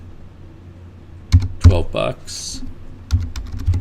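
A computer keyboard is typed on in short clusters of close, sharp key clicks between a man's spoken words as he enters an invoice number.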